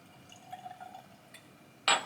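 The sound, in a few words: pouring Nobushi Japanese whiskey into a glass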